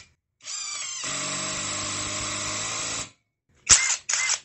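ProStormer 17 impact driver set to torque level 3 drives a 4.5 x 60 mm screw into a pre-drilled hole: one loud, steady buzzing hammer run of about two and a half seconds, then two short, sharp bursts.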